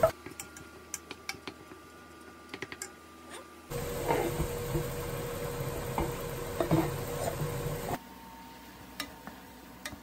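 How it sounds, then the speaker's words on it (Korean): Minced carrots and onions added to browning meat for a ragu: light ticking of a utensil on the pan, then a louder, denser sizzle for about four seconds before it drops back to quiet clicks. "고기가 어느 정도 볶아지면 아까 다져놓은 당근이랑 양파 넣어서"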